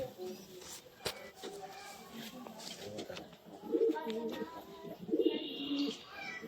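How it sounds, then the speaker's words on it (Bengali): Red pigeons in a loft give soft, low cooing calls in short bursts, heard faintly amid room noise. "দেখুন লালগুলো কবুতর"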